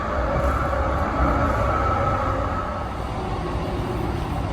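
Riding inside a MAX light rail train, a steady loud rumble and rolling roar of the car on the tracks with a constant low drone throughout and no talking.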